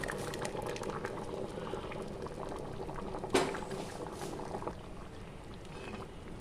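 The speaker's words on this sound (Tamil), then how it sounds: "இப்போ நல்லா கொதி வந்துருச்சு" Thick potato curry with coconut bubbles and simmers steadily in a pot, soft popping and blurping close by, with one brief louder clink midway.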